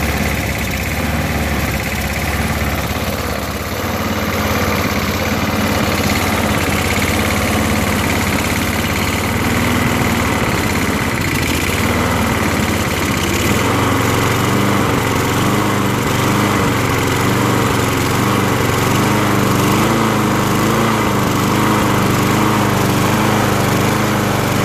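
A Murray 6HP walk-behind push lawn mower with a Briggs & Stratton engine runs steadily at somewhat low RPM. The engine drones loud and close without a break, with a slight surging wobble in its tone.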